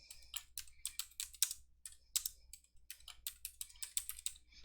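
Keys clack on a computer keyboard as names are typed into a text field, a quick irregular patter of crisp close clicks with brief pauses, fairly quiet and without talk.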